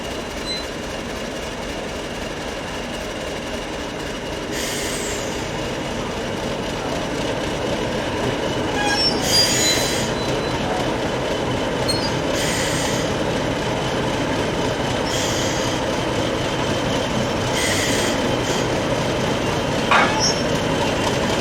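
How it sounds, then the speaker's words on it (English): Diesel locomotive 50031 coupling onto its shuttle train at a heritage railway station, a loud steady engine rumble throughout with several short metallic clanks and squeals spaced through it. "50031 has run around its train and is about to couple up onto the shuttle service"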